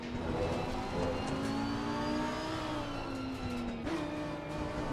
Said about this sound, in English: See, he's downshifting as well.